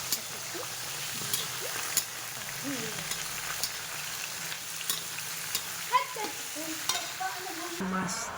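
Fish pieces with potato and brinjal frying in a pan, giving a steady low sizzle with scattered stirring clinks and scrapes throughout, moderately close and without talk.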